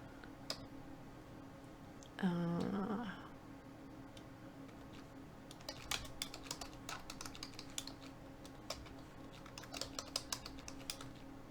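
Quiet computer keyboard typing during a SharePoint PowerApps session, a brief burst of clicks early on, then scattered key taps growing denser toward the end, with no talking.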